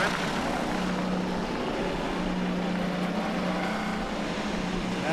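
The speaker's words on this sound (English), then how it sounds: "Drivers, start your engine!" IndyCar race car engines start up for the 2023 Sonsio Grand Prix at Road America, making a dense, steady mechanical roar with a low hum underneath and faint voices mixed in.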